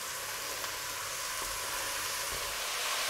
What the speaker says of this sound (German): Und jetzt braten wir das Ganze schön langsam, nicht zu große Hitze